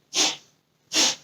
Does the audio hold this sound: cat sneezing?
yes